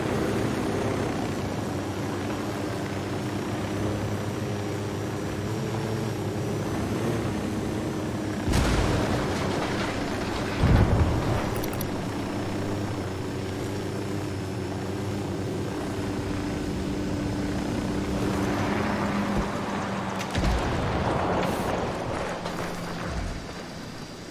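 A helicopter in the video game Ghost Recon Wildlands gives a steady, continuous rotor and engine drone throughout, with a couple of brief louder thumps partway through.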